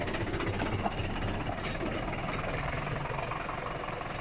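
A Zetor tractor engine running steadily in fourth high gear, a continuous low rumbling drone with a rough, knocking texture, close and constant throughout without any voices.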